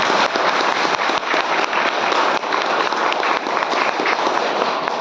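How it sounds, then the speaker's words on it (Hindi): A crowd gives loud, thunderous applause for the organisers of a grand social service event, a dense continuous wash of clapping that holds steady throughout. "इनके द्वारा ये आयोजित भव्य कार्यक्रम के लिए जोरदार तालियां होनी चाहिए"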